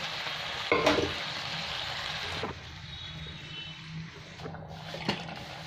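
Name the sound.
chicken being stir-fried in a kadai (wok)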